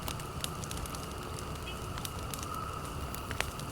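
A fire burns in The Forest survival video game, with a steady soft crackle and scattered sharp pops throughout.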